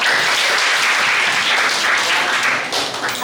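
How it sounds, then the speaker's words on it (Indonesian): A classroom audience claps in steady, dense applause that holds for several seconds and thins slightly at the end. "Aplaus dulu."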